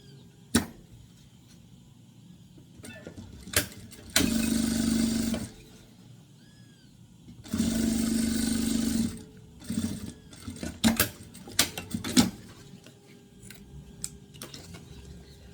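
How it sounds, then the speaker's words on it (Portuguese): A sewing machine stitches a seam along a fold in fabric for a diaper and wipes organizer, with two bursts of steady whirring stitching among scattered clicks and handling taps. "E vou fazer uma costurinha aqui, bem aonde tá essa dobrinha."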